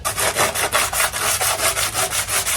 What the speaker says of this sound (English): I'm going to go ahead and use some 100 grit sandpaper and get this down to bare metal